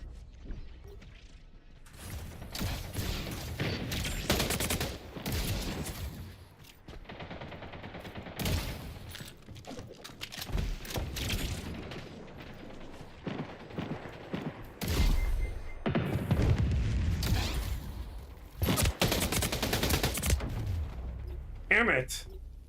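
Gunfire in the Splitgate 2 arena shooter, repeated bursts of shots and mechanical clacks in irregular clusters, fairly loud, with a player talking over the action.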